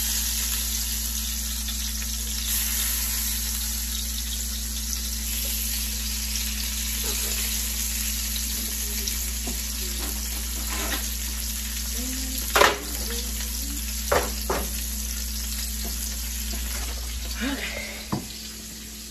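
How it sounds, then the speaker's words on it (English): Salmon sizzles steadily in a hot pan after being flipped, a constant crisp frying hiss with a few sharp clinks and scrapes of a utensil against the pan. "we gotta flip the salmon"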